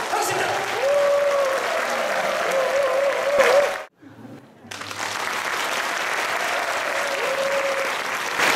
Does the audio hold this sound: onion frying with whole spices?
no